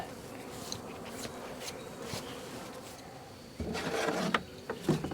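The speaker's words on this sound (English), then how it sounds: "So we go ahead and just brush the bees off, being careful not to crush any" Honey bees buzz steadily near and around a hive frame while a brush sweeps them off, followed by a louder rustling scrape and faint wooden knocks as the frame is handled.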